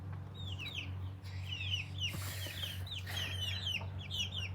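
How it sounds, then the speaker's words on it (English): Several chickens cluck in short, repeated bursts over a steady low hum, fairly faint and close together, with no talking. "Bird, do not come close to the chickens."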